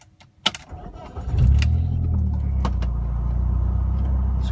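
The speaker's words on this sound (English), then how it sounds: "So let's start the car." A 1998 BMW E36 316i engine cranks and catches after a brief key jangle, then settles into a steady, loud idle with a deep rumble close by, with no talk over it.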